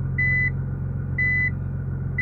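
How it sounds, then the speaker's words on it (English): Reverse warning beeps inside a Nissan GT-R, two clear evenly spaced tones about a second apart over a low steady engine idle, with a third starting at the end. "You put it in reverse and it makes this beep."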